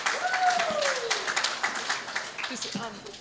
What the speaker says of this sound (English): Ruth, please, round of applause for our Olympian in the building